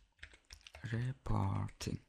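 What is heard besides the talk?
typing on a computer keyboard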